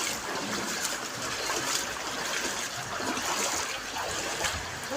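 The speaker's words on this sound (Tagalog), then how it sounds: "Parang ilog na yung mga kalsada, iskinita namin, oh." Floodwater rushes steadily through flooded streets and narrow alleys in Barangay Talaba 2, Bacoor, Cavite, a continuous near wash of flowing water with trickling and lapping detail throughout.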